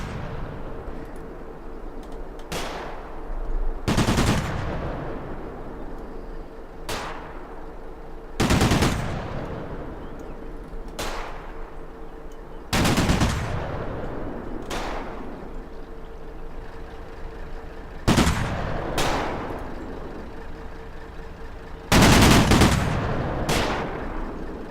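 Gunfire from soldiers shooting at a building in the Combat Mission wargame, about a dozen sharp loud shots and short bursts spaced irregularly over a low steady background hum, with no talk.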